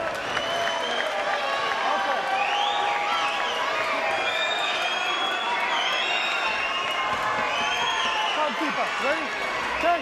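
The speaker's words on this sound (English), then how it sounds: "Now you can hear the crowd yelling, fight, fight, fight." Live crowd at a UK cage fighting MMA event roars and cheers continuously, a dense loud wash of shouts and whoops filling the arena without letup.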